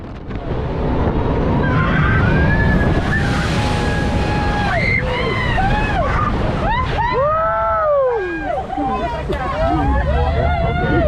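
A jet boat spinning a full 360 on the Rogue River near Grants Pass, its engine roar and rushing water mixed with wind buffeting and excited screams and shouts from passengers.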